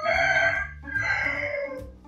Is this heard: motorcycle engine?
no